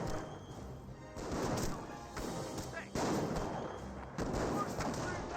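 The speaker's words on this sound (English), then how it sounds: "Rifle grenade fires." Explosive bursts from a rifle grenade fired in the Company of Heroes game, several heavy booms and crashes landing over a rumbling battlefield din, loud and close, with faint talk beneath.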